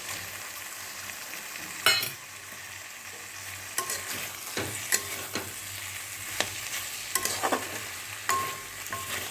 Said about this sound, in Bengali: এবার আমি চিংড়িগুলো দিয়ে দেব